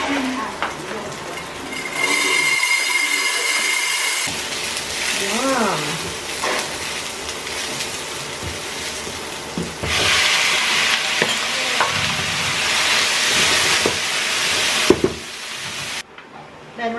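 Rice stir-frying in a home frying pan, with a loud continuous sizzle broken by repeated scraping stirs of a utensil and bursts of steam hiss, alongside brief moments of talk.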